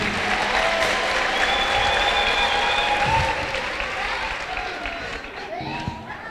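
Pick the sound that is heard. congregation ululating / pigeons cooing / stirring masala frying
congregation ululating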